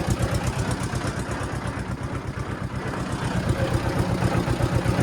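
A tractor engine idling while carrying harvested wheat to the grain market, a steady low throbbing rumble with a regular pulse, loud and close, running on its own with no voices.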